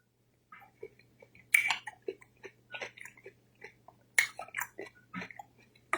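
Close, wet chewing and biting of a thick homemade gyro sauce with ginger, in irregular bursts of mouth sounds with soft breaths between, no talking.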